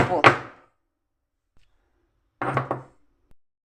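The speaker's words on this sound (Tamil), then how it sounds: "இது பூண்டு உப்பு போட்டு வச்சுருக்கேன். தட்டி எடுத்துப்போம்." Garlic cloves pounded with salt in a home kitchen, two separate bursts of heavy thudding blows about two seconds apart, close and dull, with silence between.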